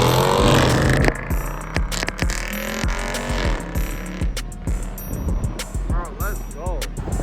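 A Dodge SRT revs at a busy car meet: repeated sharp throttle blips and a roaring exhaust rising and falling, close and loud, with voices shouting over the crowd noise.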